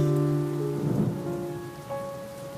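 Rain falls steadily during a storm, with a brief low rumble of thunder swelling about a second in, beneath sustained tonal notes.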